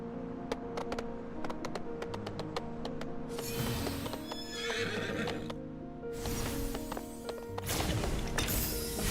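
A horse in a gacha video game gallops with rapid clip-clop hoofbeats and lets out loud, drawn-out neighs and whinnies, the hooves pattering rhythmically beneath the calls throughout.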